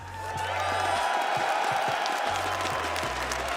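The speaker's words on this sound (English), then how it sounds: "Keep that applause going as he makes his way down the ramp onto a stage that he knows oh so well." Arena crowd at an esports playoff event applauding and cheering steadily, a dense wash of claps and whoops at moderate distance, with low electronic music and announcer voice pulses underneath.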